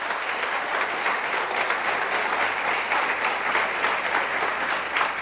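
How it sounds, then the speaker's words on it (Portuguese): A church congregation breaks into sustained, dense applause, steady and fairly loud throughout, with no voices speaking over it. "dê uma salva de palmas melhor"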